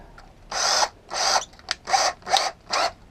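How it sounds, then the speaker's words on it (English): Drilling a larger centre hole with a 6 mm drill bit, heard as five or six short close bursts of whirring separated by brief pauses, with no talk. "with a 6 mil drill bit."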